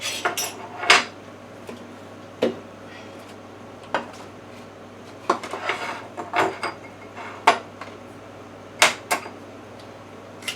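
Two eggs cracked one after another against a bowl for an egg wash while preparing Southern fried okra, heard as a series of sharp, clicky taps and clinks spread over a quiet kitchen background.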